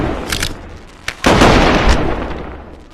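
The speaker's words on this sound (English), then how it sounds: "Eat firework!" A firework bursts in the game Animal Company with a loud, close boom and a long noisy decay, after a few brief cracks and pops.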